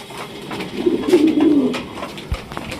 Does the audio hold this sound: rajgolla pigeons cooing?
yes